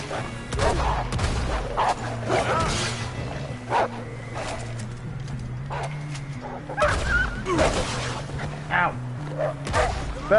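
Wolves in the Red Dead Redemption 2 video game snarl, yip and whimper in repeated close bursts, mixed with in-game voices talking and scuffling action throughout.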